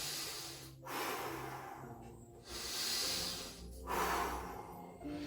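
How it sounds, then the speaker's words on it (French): Slow, deliberate breaths during a cardio cool-down exercise, drawn in through the nose and pushed out through the mouth, with three airy cycles of hissing inhales and exhales heard close and clear. "Inspirez avec le nez. Expirez avec la bouche."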